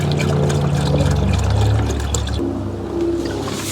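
Toyota 4Runner coolant pours steadily into a radiator funnel during a heater control valve replacement, a continuous close trickle and glug of liquid with no talk.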